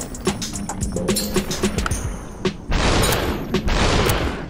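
Gunfire in the game Superhot: a run of sharp clicks and short shots, then two heavy, long shotgun-like blasts close up, with no talking.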